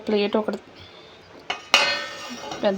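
A large plate lifted in a kitchen during biryani cooking, giving a few close clinks and a bright ringing clatter of crockery, with brief talking at the start and end.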